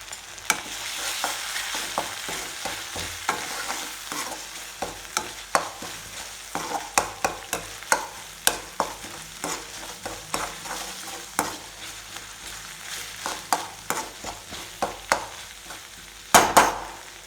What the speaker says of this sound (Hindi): लहसुन अदरक के पेस्ट समझ लो संगवारी मन आधा चम्मच डाला सन